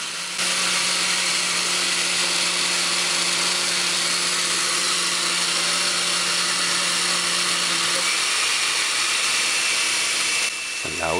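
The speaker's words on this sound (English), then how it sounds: "turn the blender on high and just allow it to blend for a good three minutes" A blender whirs loudly and steadily at high speed blending coconut for coconut milk, a harsh continuous motor roar that holds for about ten seconds before winding down.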